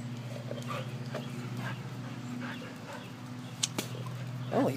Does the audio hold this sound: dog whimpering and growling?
yes